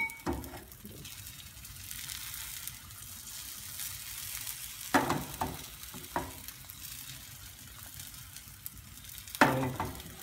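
A vegetable omelette cooks in a pan over a medium flame, giving a steady close sizzle with a few louder scrapes and clatters of the pan and utensil.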